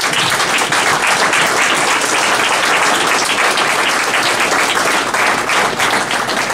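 Dense, sustained applause from an audience at a fundraising kickoff event fills the space evenly, many hands clapping together at steady loudness throughout, with no voices standing out.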